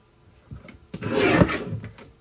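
Paper trimmer blade slicing through a strip of brown cardstock during a scrapbook page kit build, heard as a close, loud rasping scrape that swells after a couple of light taps and fades out.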